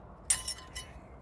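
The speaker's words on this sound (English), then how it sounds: "Alright, now we're gonna remove that brake pad." Metal parts clinking as a rear brake pad is pulled from the caliper bracket of a 2020 BMW 330i, with three short sharp clinks close by in a quiet garage.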